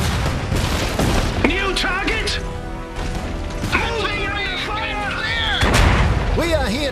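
Repeated gunfire and heavy artillery booms crack and thud in the Iron Harvest strategy game, loud and close in dense bursts, layered with mechanical clanks and game voices calling out.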